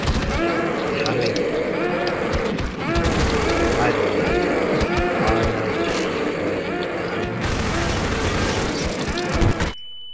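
Rapid gunfire in the Garry's Mod video game, dense bursts of shots nearly continuous for about ten seconds, loud and busy, with people talking over it, then a sudden cut to near silence.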